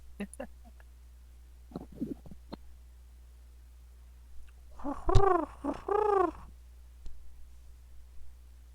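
Croaking raven-like calls, two close harmonic bursts in quick succession, follow a few faint clicks and knocks during a tabletop role-playing session over a Discord call; the calls may be a voice imitating a raven.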